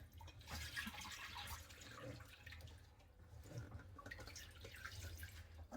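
Soaked homemade potato fries are drained, water pouring and trickling steadily in a faint, continuous wash with small splashes, no talking.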